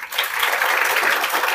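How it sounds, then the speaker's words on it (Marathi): An audience claps at a motivational talk by a speaker at a science institute, dense, steady applause from many hands, fairly loud and with no voice over it. "बरोबर, टाळ्या वाजवा त्यांच्यासाठी."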